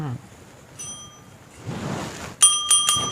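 A door bell rings a few times in quick succession near the end, bright and clear after a quieter stretch with a rustling swell.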